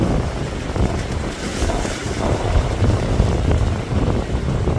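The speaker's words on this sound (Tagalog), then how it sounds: "Pulang lakas ng hangin" Strong wind at sea buffets a microphone on a boat, a steady loud broadband roar with gusty rumble and wave wash throughout, no voices.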